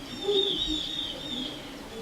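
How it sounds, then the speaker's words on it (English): Birds call from trees outdoors: a thin, continuous high whistling with soft cooing underneath, steady and fairly close, with no voices. "he hears the birds from the trees alongside my narration"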